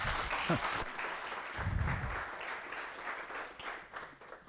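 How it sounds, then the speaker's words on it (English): A conference audience at a hacker camp keynote gives a sustained round of applause, fairly distant and even, with a brief voice murmuring partway through. "Let's give a round of applause to Jérémie."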